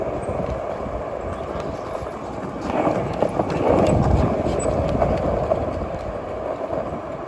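A carriage horse's hooves clip-clop at a steady walking pace on a New York City street near 59th Street at night, amid a constant wash of city traffic noise, growing a little louder midway.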